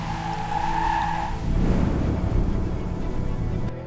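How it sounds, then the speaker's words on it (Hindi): Car brakes screech on the NH-7 highway as a sound effect: a high tire squeal gives way to a rough, sustained skidding roar that cuts off abruptly, with no speech. "ब्रेक लगे चीखती हुई आवाज के साथ, लेकिन गाड़ी नहीं रुकी।"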